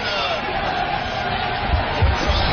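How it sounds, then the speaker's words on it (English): A crowd yells and cheers in a continuous, dense wash during a live radio broadcast, with a few louder bursts toward the end. "I just heard a bunch of people yelling Artie"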